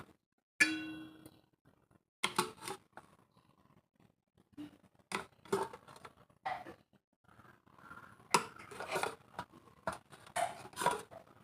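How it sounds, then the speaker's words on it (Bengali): Glasses clink and clang as they are set on a metal plate inside a cooking pot for baking cake, sharp ringing knocks separated by quiet pauses, close by. "এই প্লেটটার উপরে আমি গ্লাসগুলো বসিয়ে দিলাম"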